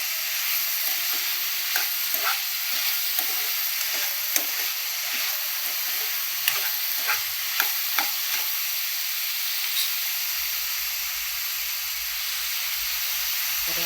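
Mixed vegetables for pulao sizzle and fry in a pan, with a steady bright hiss and scattered clinks and scrapes of a spoon stirring, close and continuous with no talking.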